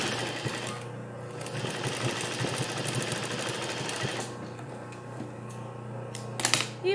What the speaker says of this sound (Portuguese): A gente tomba a costura e vem aqui passando um pesponto para assentar isso